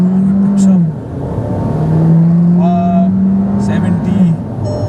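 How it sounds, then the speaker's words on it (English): A 2021 Volkswagen Taigun accelerates at full throttle in sports mode, its engine note rising steadily and dropping briefly at a gear change before climbing again. The engine is loud and close from inside the cabin, with a voice talking over it. "full throttle down, sports mode"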